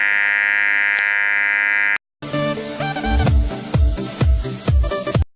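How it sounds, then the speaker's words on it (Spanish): A two-stage analog audio amplifier circuit gives a steady electronic tone for about two seconds, cuts out, then gives way to a louder buzzing with repeated rhythmic pulses. "Está presentando un pitido correspondiente"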